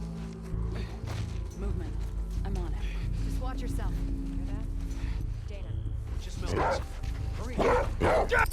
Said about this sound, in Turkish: Abi köpek varmış orada.